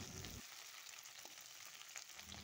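Okra pieces fry in hot oil, a quiet, steady sizzling hiss heard close by with a few faint crackles, and no voices over it.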